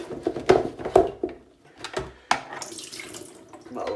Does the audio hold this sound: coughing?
no